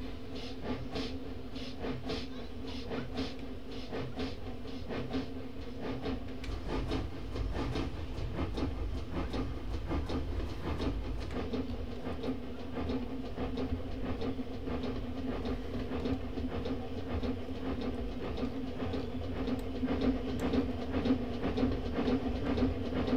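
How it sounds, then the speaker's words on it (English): Steam locomotive 5705 running with its cutoff set very low in Train Simulator, giving a steady rumbling rail sound with faint rhythmic clatter and a hissing tone, continuous and fairly loud throughout with no talk. "Locomotive."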